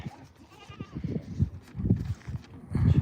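A male goat at the weekly Wednesday goat market in Dhanaula bleats amid a busy crowd of voices and market noise, the calls faint and partly masked by the surrounding din.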